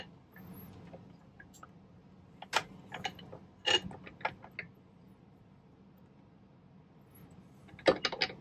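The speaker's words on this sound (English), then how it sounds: "let's see if we can fit these through the rolling mill now" A hand-cranked jewelry rolling mill presses diamond-shaped scrap silver into wire, giving scattered faint mechanical clicks, creaks and short metallic knocks in a quiet room.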